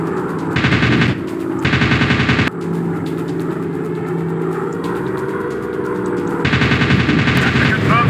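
Rapid machine-gun bursts from aircraft in a dogfight video game against enemy bombers, loud and close, firing in three long sustained bursts separated by engine drone.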